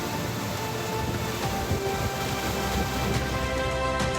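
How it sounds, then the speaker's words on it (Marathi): Heavy unseasonal downpour over the Navi Peth area of Pune, a steady dense wash of rain with a constant roar that holds level throughout, with no voices. "नवी पेठ भागातही मुसळधार पावसाचा जोर पाहायला मिळाला"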